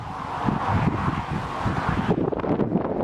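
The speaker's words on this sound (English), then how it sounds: "It's rather windy today." Steady wind buffets the microphone in loud, gusty rumbles throughout on an overcast day at New Winton, East Lothian, with a rushing roar that never lets up.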